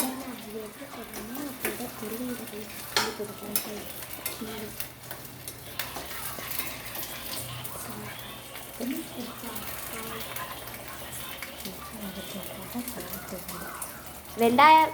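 Onions sautéing and being stirred in a pan for a Tamil sambar and mushroom gravy, with a steady sizzle, scraping stir strokes throughout and a louder burst near the end, over a low background hum.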